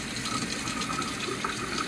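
Water running from a kitchen tap while food is rinsed for a charcuterie board, a close, steady splashing gush with no pauses.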